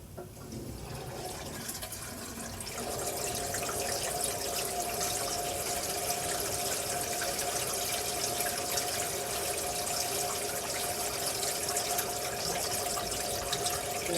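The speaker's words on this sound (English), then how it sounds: "Go ahead and flush the toilet. We should be seeing water here shortly." A flushed toilet sends water rushing through a drain line, a steady broadband flow that starts low and swells after a couple of seconds into a continuous, fairly loud gush with a faint tonal hum running underneath.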